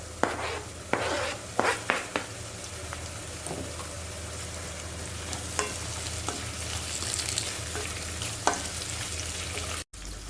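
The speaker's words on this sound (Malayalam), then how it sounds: "അതിലേക്ക് നമുക്ക് അരിഞ്ഞു വെച്ചിരിക്കുന്ന ടൊമാറ്റോ കൂടി ഇട്ട് കൊടുക്കാം" Chopped tomatoes sizzle with softened onions in a pan for Kerala-style tomato rice, a steady frying hiss with scattered sharper crackles and a few spoon scrapes early on, close and continuous without talk.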